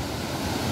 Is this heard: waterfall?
yes